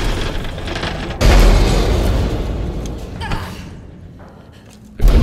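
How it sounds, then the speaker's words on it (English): A heavy explosion in the survival horror game Alien Isolation hits suddenly as a deep boom, then rumbles and decays over several seconds before a second thump lands at the end. "Oh, what an explosion that is."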